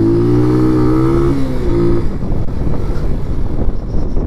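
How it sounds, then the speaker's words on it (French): A Keeway motorcycle engine revs close by, its rising harmonic whine climbing and then dropping after about two seconds into a loud, rough, steady roar with wind buffeting the microphone. "La moto qui commence à s'énerver, attention."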